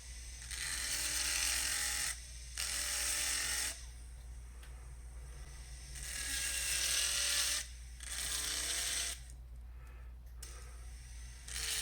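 High-pitched rotary tool whine grinding a notch into the girdle of a martini stud setting, running in several bursts of a few seconds each with brief pauses between, close and steady.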